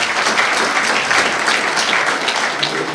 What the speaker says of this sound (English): give Keith a round of applause.